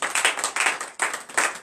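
Congregation clapping in acclamation during a morning prayer service in Benin, rhythmic bursts of many hands in quick groups, close and lively, with no voices.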